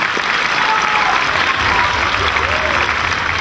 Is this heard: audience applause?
yes